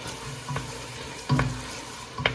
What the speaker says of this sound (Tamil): நாங்கள் கொஞ்சம் தக்காளி பழம் அவிஞ்சு வறுத்துட்டோம்